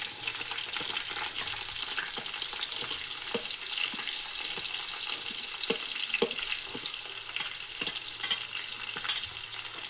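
Onions frying in oil with mustard seeds and curry leaves for capsicum rice: a constant, busy sizzle and crackle close by, broken by soft stirring scrapes and small pops, with no voices.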